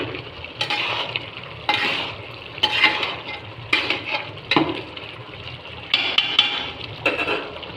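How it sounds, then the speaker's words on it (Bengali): Khichuri stirred in a pot with a bamboo stick: rhythmic scraping strokes about once a second over a soft simmer, close and fairly loud. "এবার মুই ভালো করে বাঁশ দিয়ে নাড়িম"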